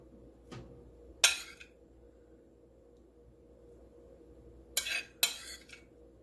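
A metal spoon clinks against a bowl and muffin tin while scooping a cooled spinach, mushroom and shallot mixture, with one soft tap followed by a few sharp scraping clinks, close up and without talk.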